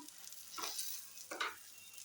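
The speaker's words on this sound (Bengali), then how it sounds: "এই যে মায়ের জন্য ভাজছি এখন আমি ডিম" Eggs frying in a pan give a faint, low sizzle, broken by two brief louder bursts of hissing, as if stirred or flipped.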